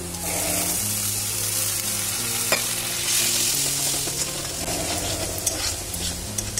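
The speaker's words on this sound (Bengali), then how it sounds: "মশলাটা কষানো হোক।" Spice masala of onion, coriander-cumin powder, turmeric and chilli powders frying with a splash of water, loud continuous sizzling with repeated stirring clinks and scrapes of the spoon in the pan.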